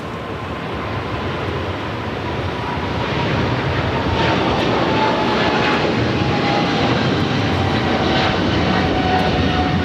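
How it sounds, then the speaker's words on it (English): An Eva Air Boeing 777-300ER jet rolls down runway 25 right at LAX on takeoff, its engines producing a broad, continuous roar that builds steadily in loudness and holds strong at a distance. "We got the Eva Air 777-300ER now rolling down to 25 right"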